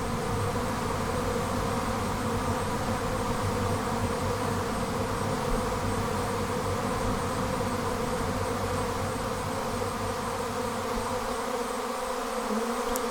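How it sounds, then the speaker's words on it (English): A swarm of Saskatraz honey bees hangs about seven feet up, giving a dense, continuous buzzing drone that stays loud and steady throughout with no voices. "what kind of bees are these anyway? Well, they're Saskatraz bees."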